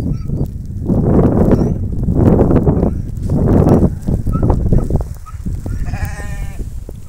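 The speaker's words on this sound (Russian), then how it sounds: "овечки, ярочки молодые." Young ewes and sheep bleat loudly and close by in several long, overlapping calls, with softer bleats trailing off near the end.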